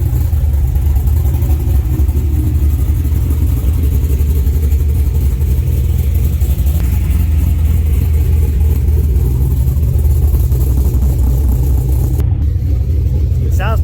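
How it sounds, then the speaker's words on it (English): A Chevrolet Silverado truck engine with a Speed Engineering exhaust runs up close, a loud, heavy low rumble holding steady with slight swells in pitch, before a brief clatter and a shift in sound at the end. "It's pretty rowdy when you rev it up"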